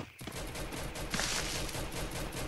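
Rapid bursts of gunfire from weapons in the Free Fire battle royale game, a dense continuous fusillade of overlapping shots at steady loudness throughout, with no talking.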